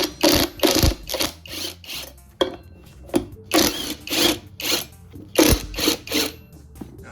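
A ratchet wrench clicks on minibike bolts in repeated quick bursts of rapid metallic ratcheting, close and loud, separated by short pauses.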